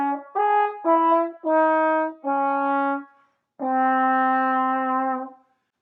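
A single horn-like melodic line plays a jazz altered dominant lick using the sharp 9 and flat 9 over a jazz tune, six clear detached-then-held notes ending on a longer sustained tone, solo and close, with no talking.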